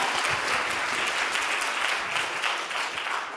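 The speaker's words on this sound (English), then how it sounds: "can we get an applause for Eleanor Roosevelt" An audience at a live author conversation event breaks into steady, sustained applause, a dense wash of many hands clapping with no voice over it.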